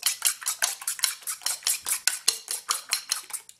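Five eggs lightly beaten in a bowl with a fork for Greek diples pastry dough, a rapid steady clatter of metal against the bowl, about four strokes per second, close and clear with no talking.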